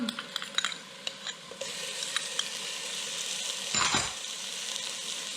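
Garlic and ginger sizzle in a hot pan of oil while cornchaff, a Nigerian dish, is cooked: a steady bright hiss with light stirring clicks and a brief louder surge near the end.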